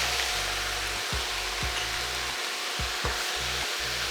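Ingredients for lasagna sauce sautéing in a pan, a steady close sizzle and frying hiss with a few low knocks and stirring thumps, no voices over it.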